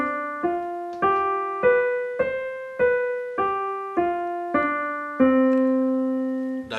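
Eight ascending notes of raga Desh based on C sound one after another at an even pace on a plucked melodic instrument, closing on a longer, sustained tonic.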